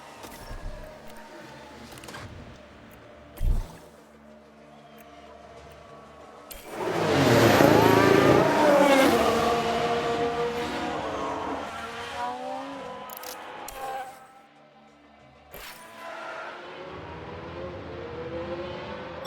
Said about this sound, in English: Sounds like we've had a spin.